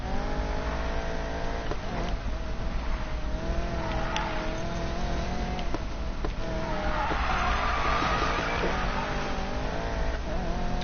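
Car drifting in the racing game Need for Speed Payback: a steady engine drone with rising revs and bursts of tire squeal through the middle and end, continuous and fairly loud.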